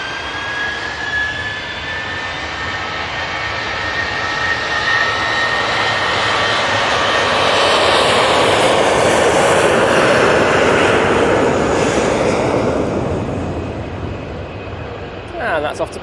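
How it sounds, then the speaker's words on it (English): Ryanair jet on its take-off roll at Manchester Airport, a broad roaring engine rumble that swells to a loud peak mid-way and slowly fades as the aircraft moves off, heard from a distance. "Ryanair on the roll."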